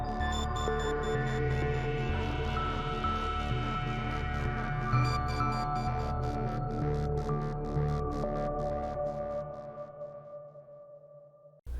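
A short electronic music track built in Ableton Live from a few instrument tracks, using Arturia Pigments and FabFilter Twin 2 synth plugins; sustained layered synth tones with rhythmic pulsing that thin out and fade near the end.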